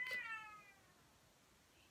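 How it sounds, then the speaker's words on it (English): A pet cat gives a single short meow nearby, fairly faint against a quiet room with near silence afterward. "Did you hear my cat?"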